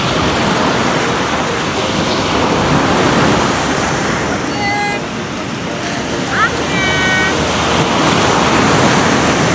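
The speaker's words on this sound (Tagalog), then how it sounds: "Ang lalaki ng alon." Big ocean waves rolling onto the beach at San Juan, La Union, a loud, steady wash of surf filling the scene, with faint voices and a few brief higher sounds over the roar.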